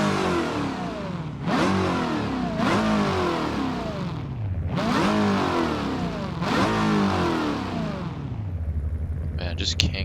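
A Corvette C6 ZR1 engine in BeamNG.Drive revs hard through repeated climbing sweeps as it drives, with four distinct pulls and shifts, loud and near, while a person talks over it.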